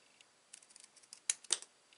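Scissors cut through card for a craft project with a few quick, crisp snips, close and faint, the last two cuts sharper and louder.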